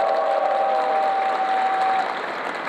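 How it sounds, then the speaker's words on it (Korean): A seated crowd at a book launch event for an education official claps steadily, dense sustained applause with faint cheering mixed in, tapering slightly near the end. "모두가 큰 함성과 박수로 이병도 교육장님께 함성과 박수 부탁드릴까요?"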